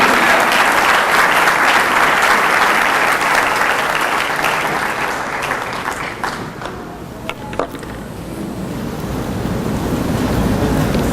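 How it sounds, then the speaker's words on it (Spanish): A church congregation gives loud sustained applause for the Lord at a workers' meeting, a dense roar of clapping that gradually thins and fades, with a few isolated claps near the end. "Dale un aplauso al Señor"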